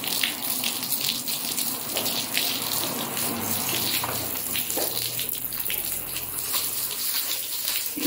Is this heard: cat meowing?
no